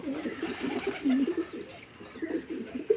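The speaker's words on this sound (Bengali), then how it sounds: "দেখুন পায়রাগুলো ঘুরছে" Pigeons kept at a home loft coo steadily in the late afternoon, low throaty murmurs overlapping continuously at moderate loudness, with faint rustling as the birds move about and no talking.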